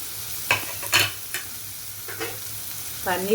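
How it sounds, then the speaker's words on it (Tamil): Onions fry quietly in butter for paneer dosa, with a few distinct spoon scrapes and stirs against the pan over a soft background sizzle. "நல்லா ஃப்ரை ஆகுது ஆனியன் நல்லா ஃப்ரை ஆகணும்"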